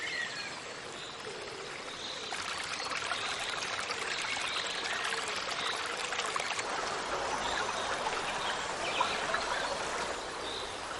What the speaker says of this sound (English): High in these hills, a tiny brook springs to life,